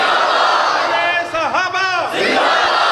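At a religious sermon gathering in Khushab, a crowd roars back a religious slogan after a chant leader's call. A single voice calls out, then a loud mass of voices surges in and continues in unison.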